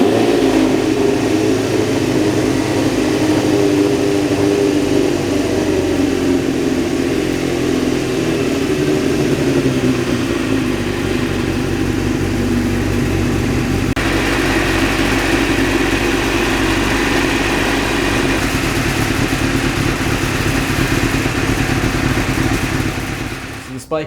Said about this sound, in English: This bike is seemingly running well, but it seems to have a wandering idle.